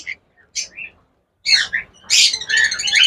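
Cockatiels kept as breeding pairs let out sharp, bright chirps and whistles in short bursts separated by silence, ending in a louder run of overlapping calls, close and clear.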